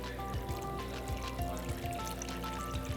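Fizzy homemade birch sap soda poured into a container, a steady close trickle and splash of liquid with a faint bubbling hiss, quiet and continuous throughout.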